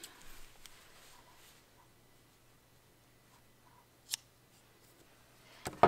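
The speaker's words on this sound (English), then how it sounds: "then you just snip the end" Scissors snip a yarn end during knitting work on a shawl collar cardigan: a single sharp, close cut near the end, with a faint earlier click and otherwise quiet surroundings.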